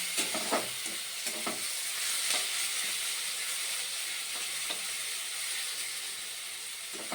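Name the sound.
onion and garlic frying and being stirred until browned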